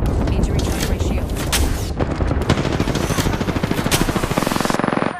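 Dense automatic gunfire from a video game shooter rattles continuously, with bursts of rapid shots and heavy booms layered into a loud, busy battle din that settles into a steady fast rattle near the end.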